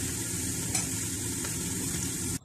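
Onions browning with a spoonful of white cumin seeds in hot ghee, for Bannu beef pulao, crackling in a steady, dense sizzle close to the pan with no talking.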